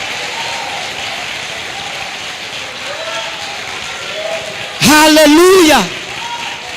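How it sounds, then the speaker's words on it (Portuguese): A church congregation applauds in steady, dense clapping that runs throughout, with a loud shouted exclamation rising briefly over it near the end. "Aplauda o Senhor."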